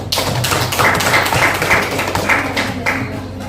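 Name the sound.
applause from class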